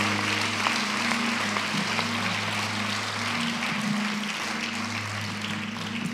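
Church conference audience applauding and cheering in a large hall, a steady dense wash of clapping and crowd noise over a low sustained hum, continuous for several seconds.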